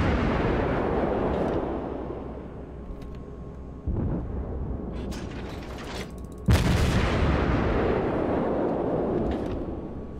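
Heavy naval guns on the Omaha cruiser in World of Warships fire in loud, booming salvos, with two sharp blasts cutting through a continuous low rumble of engine and sea noise.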